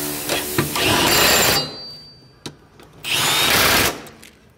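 A power tool tightens bolts while a 2009 Honda Accord engine is installed, firing in two loud, close whirring bursts separated by a brief metallic clank.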